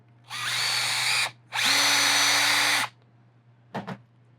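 A Festool C18 cordless drill whirs in two bursts, a short one then a longer steady run, followed by a couple of brief clicks.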